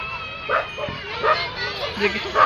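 Dogs let out repeated short yips and barks, close by in Sardar Baug park, mixed in with people talking.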